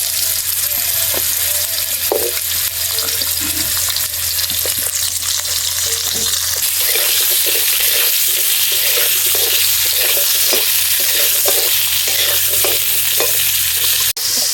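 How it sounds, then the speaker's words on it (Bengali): Cut papaya pieces sizzle steadily in hot oil left from frying potatoes in a pan, with a constant loud crackle and occasional stirring scrapes and clinks throughout. "এবার এই আলু ভাজার তেলেই আগে থেকে কেটে রাখা পেঁপেগুলোও ভেজে নেব।"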